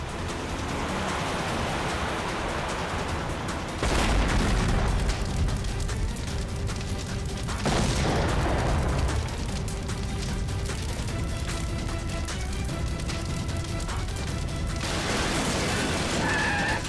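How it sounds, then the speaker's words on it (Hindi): A car bomb goes off in a TV crime drama. Loud, roaring broadband blasts swell up several times over a constant heavy rumble, with no talking. "लगता है इसकी गाड़ी में किसी ने बॉम्ब फिट कर रखा था"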